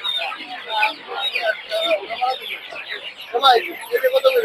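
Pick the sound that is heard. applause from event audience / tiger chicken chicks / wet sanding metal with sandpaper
tiger chicken chicks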